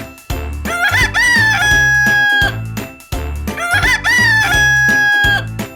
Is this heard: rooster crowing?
yes